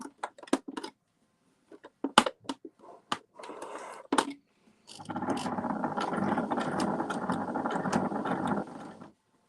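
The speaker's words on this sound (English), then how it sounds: "I just went backwards and forwards to secure the stitch." A domestic sewing machine with a normal foot stitches fabric for small lavender bags, starting with short stop-start clicking bursts, then a steady close mechanical whir of continuous stitching.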